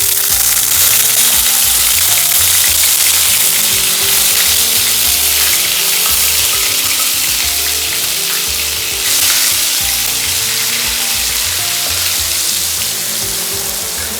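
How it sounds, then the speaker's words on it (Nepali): Onion puree hits hot oil already seasoned with fenugreek for a Nepali-style mutton kofta curry, giving a loud, steady, close sizzle and crackle that carries on throughout with no voices. "तेलमा मेथी पुरिसकेपछि चाहिँ म यो प्याजको प्युरी यसमा हाल्छु"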